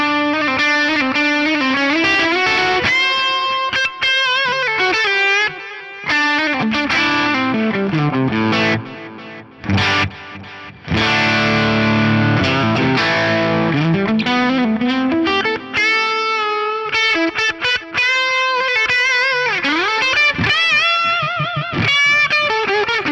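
Distorted electric guitar chords and riffs ring out with a ping-pong delay that bounces and trails after each note, playing continuously without any talking.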